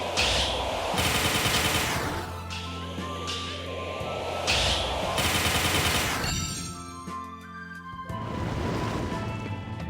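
Shooting in the video game Kirby and the Forgotten Land, with dense rapid-fire gunfire bursts and crashing impacts sounding almost continuously and loudly, broken by short pauses.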